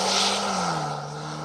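A rally car's powerful engine roars loudly and steadily during a rally stage, its pitch sliding downward as the car passes and moves away.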